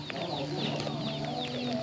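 Chickens cluck steadily and close by, with overlapping soft clucks and calls filling a short farmyard scene against a dense background hiss.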